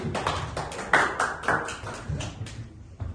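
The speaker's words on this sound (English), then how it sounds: "Give applause to Suchi" A small class of young learners claps for a pupil, a quick scattered patter of hand claps at moderate distance with no talking over it.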